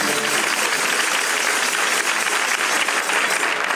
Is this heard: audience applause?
yes